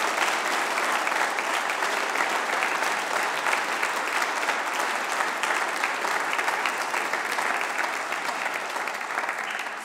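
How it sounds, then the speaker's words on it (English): A church congregation claps through a Sunday morning service, dense and even applause that holds steady for about ten seconds before easing slightly at the end. "Should we give Yian a clap?"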